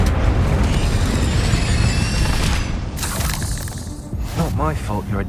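An Incendio fire spell in Hogwarts Legacy roars as a loud, rushing burst of flame with booming low rumble, followed by creature shrieks and a voice speaking.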